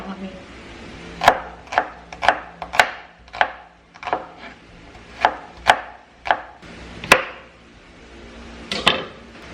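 Knife chopping ingredients for tinola on a cutting board in a home kitchen, about a dozen sharp, clear knocks in an uneven rhythm, close and moderately loud with no talking.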